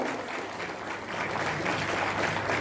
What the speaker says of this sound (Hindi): आपकी जोरदार तालियां हो